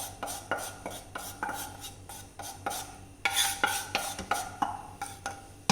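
A spoon scrapes and clinks rhythmically against a bowl while Dairy Milk chocolate, milk and flour are stirred into a paste, in repeated close strokes that grow a little louder partway through.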